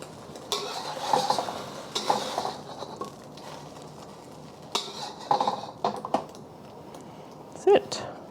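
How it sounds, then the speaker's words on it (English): Cooked eggs being scooped back into a bowl, giving scattered light clinks and scrapes of utensil against dish under ongoing talk. "I'm just going to put these eggs back into the same bowl."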